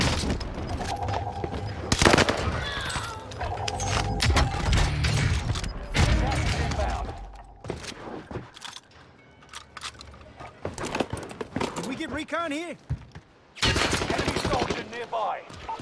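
Bursts of rapid automatic gunfire from a Type 100 submachine gun in Call of Duty Vanguard Warzone on Rebirth Island, loud rattling volleys broken by pauses and distant pops, with a voice talking between shots.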